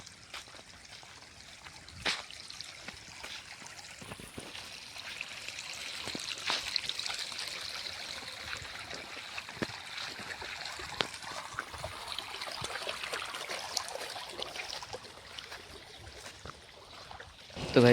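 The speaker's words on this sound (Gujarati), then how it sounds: "જો ગાઈસ આ પાણી" Water trickles and gurgles steadily through a small stream on a farm, a continuous close babble with occasional splashy bursts and no voices.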